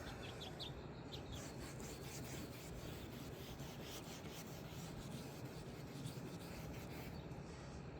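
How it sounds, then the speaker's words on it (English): Steady back-and-forth rubbing of wet sandpaper on a Honda Civic headlight lens, a continuous close rasp that holds at an even level throughout with no talking. "now that you got your wet sanding done"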